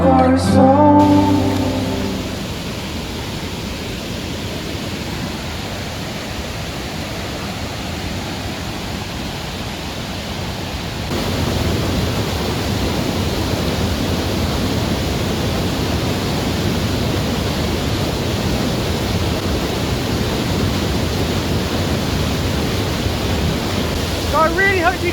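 Steady broadband roar of a rushing waterfall in torrential rain, constant and fairly close, growing a little louder partway through, with no voices.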